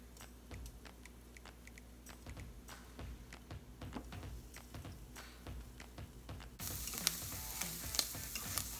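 Shrimp frying and sizzling in a pan, with steady crackle and stirring scrapes, getting louder and brighter near the end as the sizzle intensifies.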